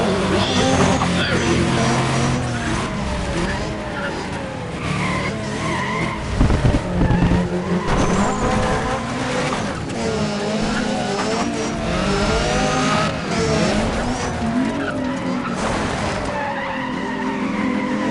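A 1991 Mazda 787B race car in the NFS ProStreet racing game roars and revs continuously, with repeated tire skids and squeals over loud engine noise throughout.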